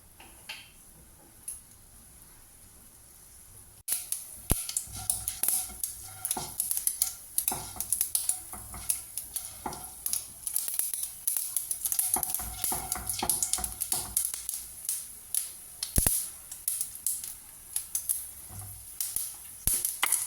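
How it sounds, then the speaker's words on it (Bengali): Dried red chillies and mustard seeds crackle and spit in hot oil for a tempering, a dense, steady sizzle starting abruptly after a quiet moment, with scattered sharp pops and occasional metal utensil clinks close by. "তেলটা ভালো করে গরম হয়ে গেলে 2টো শুকনো লঙ্কা এর মধ্যে দিয়ে দিলাম ফোড়ন হিসাবে, আর একটু সরষে"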